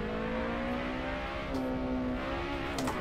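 Honda Civic engine in Assetto Corsa rolling downhill on the Petersbergennen hill climb, a steady loud drone holding one pitch that rises slightly, with brief tyre scrubs near the end.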